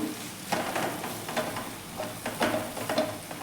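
Jaggery melting in a pan over low heat while being stirred, a soft sizzle broken by several scraping strokes of the spoon, close and quiet with no talking.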